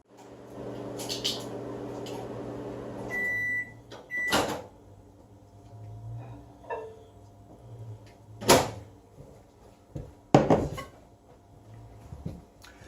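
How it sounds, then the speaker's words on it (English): A microwave oven runs with a steady low hum while melting butter in a home kitchen, broken by a couple of beeps near the start, then quieter and interrupted by sharp knocks and clatters like a door or cupboard closing. "we're going to go ahead and put this in the microwave to melt"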